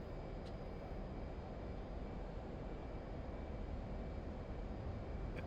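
An F/A-18 Hornet jet engine at full throttle in the DCS flight game, a steady, dense, unbroken roar holding at one level throughout, with no talk over it.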